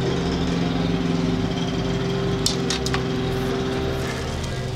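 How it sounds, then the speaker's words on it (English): A lawn mower runs steadily nearby with a continuous motor drone, with a few brief scraping or clicking bursts partway through and no talking. "There's a dude mowing his lawn"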